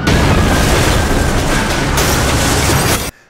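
A movie explosion in which a TV blows up and throws a desk backward, from the 1996 film Warhead: a loud, continuous roaring blast that holds for about three seconds and then cuts off abruptly.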